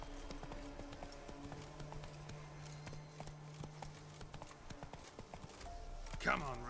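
Roach, Geralt's horse in The Witcher 3, clip-clops along in a steady trotting rhythm under game music and a speaking voice, ending with a short whinny.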